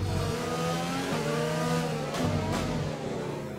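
A race car engine in the F1 2020 video game drones loud and steady, shifting pitch as the car accelerates and changes gear.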